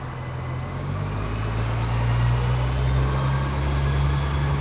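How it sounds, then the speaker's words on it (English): A bus idles nearby with a steady low engine rumble that grows slightly louder as it draws close, continuous and fairly loud, with no talking. "I got a bus coming here"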